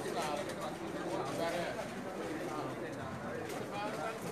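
Soft pigeon cooing and murmuring blends with busy background chatter, a steady low warble running through the whole stretch.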